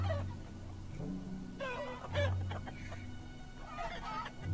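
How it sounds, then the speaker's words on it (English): Chickens cluck in a video game, a run of short bird calls coming and going over a steady low background hum. "There's chicken noises."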